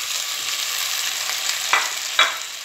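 Merguez sausages half-cooked in a frying pan, a close, steady hiss of sizzling fat with two brief sharper spatters near the end, no talk.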